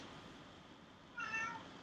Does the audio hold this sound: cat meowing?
yes